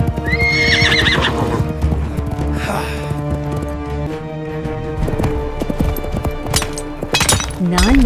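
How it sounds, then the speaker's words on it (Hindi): Animated story soundtrack of a horse galloping hard, rapid hoofbeats clattering with a loud whinny and snorts, layered over music and effects, ending with a heavy thud-like impact. "तेज चलो मेरे घोड़े"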